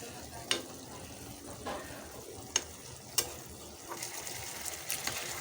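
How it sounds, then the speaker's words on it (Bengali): Fried eggplant sizzles steadily in a pan of cooked-down spice masala, a constant frying hiss broken by a few sharp crackles and pops as the pieces are stirred in. "মশলাটা সম্পূর্ণ কষে আসছে, এখন আমি এর মধ্যে দিয়ে দিচ্ছি ভেজে রাখা বেগুন।"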